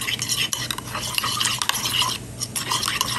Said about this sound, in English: And give this a big stir.